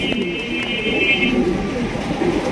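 Fancy-breed pigeons held for sale coo softly and repeatedly under a steady background hum, with someone talking intermittently close by.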